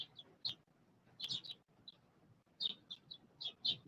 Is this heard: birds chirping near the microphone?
yes